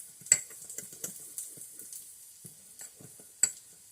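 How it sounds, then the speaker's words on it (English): Potato salad dressing ingredients mixed together in a bowl, producing faint, irregular clinks and soft wet stirring taps, close and quiet with no voices. "now just get all the ingredients for the dressing mixed together"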